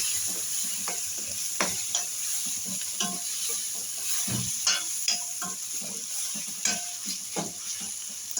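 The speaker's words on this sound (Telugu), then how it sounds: "టమాటా ముక్కలు మగ్గిపోయి కాకరకాయ వేసేసుకుంటున్నాను. బాగా కలబెట్టేసి" Bitter gourd and softened tomato pieces are stirred in a frying pan, with repeated spatula scrapes and taps against the metal over a steady sizzle, close and clear, without speech.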